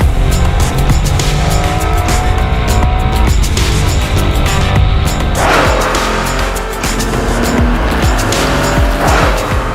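Japan-only Honda NSX Type R heard from inside while driving, its mid-mounted engine roaring loudly behind the cabin with rising and falling revs and gear changes, continuous and close, no speech.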